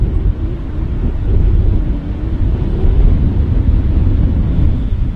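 Steady wind buffets the microphone outdoors at Manchester Airport, a continuous low rumbling roar that swells and eases slightly without any voices.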